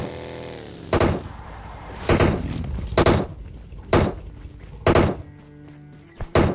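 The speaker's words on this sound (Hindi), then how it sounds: "एक बंदा जो है किसी और को फायरिंग कर रहा होता है" Gunfire in PUBG Mobile, sharp loud shots cracking out roughly once a second, some in quick doubles, over a steady droning tone and low background hum.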